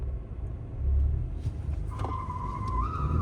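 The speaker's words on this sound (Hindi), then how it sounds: "बड़ा व्हील स्पिन मारा उसने तो" Turbo petrol VW Virtus and Hyundai Verna launching side by side in a drag race, a heavy low engine rumble swelling at the start, then a rising whine and brief tyre chirp from wheel spin near the end.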